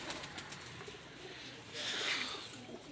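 Pigeons coo softly in a loft at a pigeon-flying gathering in Faisalabad, with faint wing flaps and a brief rise of rustling noise partway through, and no voices over it.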